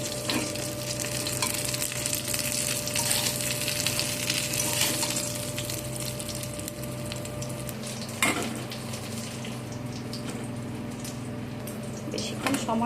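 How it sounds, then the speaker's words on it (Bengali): Fish roe fritters frying in hot oil give a steady close sizzle with faint stirring and a sharp clink midway, while a voice speaks faintly underneath. "মাছের এই ডিমগুলো আমার ভাজা হয়ে গিয়েছে"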